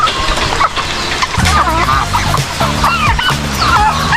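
Pet chickens, ducks and turkeys calling in the rain give loud, close clucks and gobbling, gabbling bursts that overlap in quick succession over a steady wet background wash.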